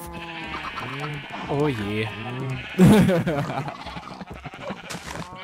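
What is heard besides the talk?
sheep bleating in Minecraft video game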